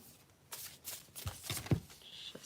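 A short, soft shuffle of a crow card deck close by, a few quick riffling bursts over a quiet background.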